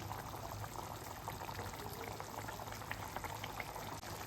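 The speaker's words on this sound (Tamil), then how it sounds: "நல்லா கொதிச்சிட்டு பாருங்கள்" A pot of thick lentil dumpling curry bubbles and simmers steadily, with soft popping and gurgling close by.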